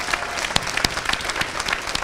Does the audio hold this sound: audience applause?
yes